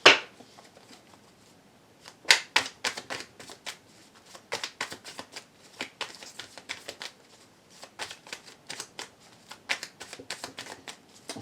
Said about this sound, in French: Allez, on va tirer avec un autre tarot.